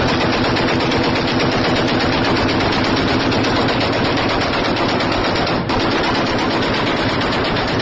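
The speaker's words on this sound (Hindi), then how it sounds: "गोलियों की आवाज" Gunfire at Pakistani border posts comes as a loud, sustained machine-gun burst that stays dense and unbroken for several seconds, with no voices.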